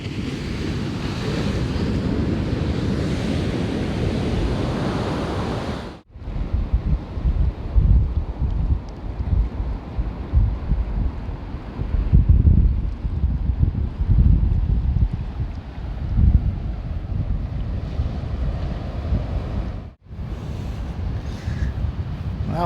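Beach surf rolls in and breaks at a windy shore, with steady wind buffeting the microphone and swelling crashes of waves that briefly cut out twice.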